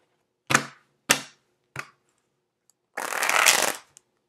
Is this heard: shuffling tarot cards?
yes